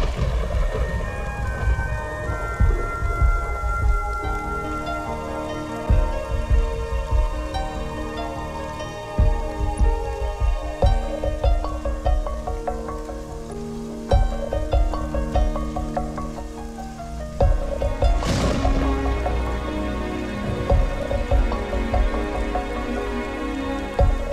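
Rain falls steadily in a street scene from a Hindi film, giving a continuous patter of drops on surfaces beneath layered background music, with a louder splash or hit partway through.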